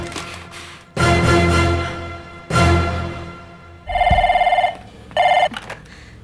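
A telephone rings in bursts indoors, opening with two long, loud rings followed by shorter trilling electronic rings, with brief gaps between them and no talking.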